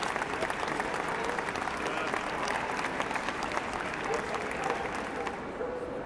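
A ringside crowd at the Crufts 2012 dog show applauds steadily, producing a dense, continuous patter of clapping that eases slightly toward the end.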